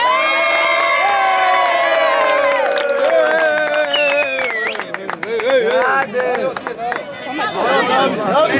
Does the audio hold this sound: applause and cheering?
yes